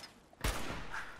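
A single gunshot rings out in the video game Fallout 4, a sharp, loud crack followed by a short rumbling tail.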